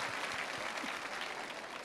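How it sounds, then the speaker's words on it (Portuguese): A church congregation applauds during a talk by a priest, giving a dense, even patter of many hands heard at moderate distance for a short stretch. "uma salva de palmas."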